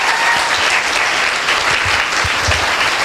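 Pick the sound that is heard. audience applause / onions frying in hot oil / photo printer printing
audience applause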